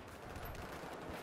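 Battlefield 4 gunfire pours out as a dense, continuous rattle of rapid shots, loud and steady throughout a brief moment of combat.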